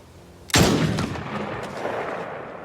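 A single loud rifle shot rings out during a stag hunt, a sharp close crack followed by a long rolling echo that fades slowly across open country.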